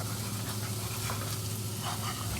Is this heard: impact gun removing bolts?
no